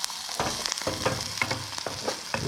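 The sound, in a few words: chickpea and tuna burger flipped in a frying pan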